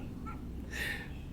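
A single short cat meow from a video game, mid-pitched and moderately loud over a low steady background hum.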